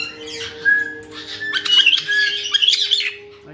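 A pet parrot squawks and screeches in harsh bursts close by, with a steady low hum underneath and no talking.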